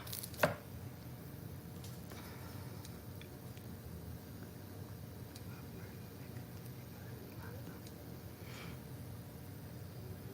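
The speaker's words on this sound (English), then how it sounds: "I'm gonna chop onions, garlic, and the mushrooms" Onions, garlic and mushrooms are chopped with a knife, producing faint, sparse taps scattered at an unhurried pace over a quiet room background.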